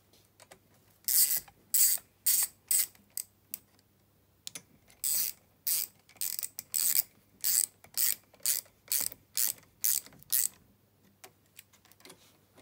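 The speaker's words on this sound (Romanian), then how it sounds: "Strângem piulițele." A ratchet wrench tightens nuts while bearings and seals are replaced on an Aprilia SR DiTech injection scooter, giving a close, loud run of rapid clicking bursts in quick repeated strokes with short pauses between.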